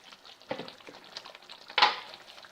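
Curry leaves dropped into hot oil for tempering an eggplant kuzhambu, giving a soft crackling sizzle with a few sharper pops and a louder spitting burst near the end, with no talking.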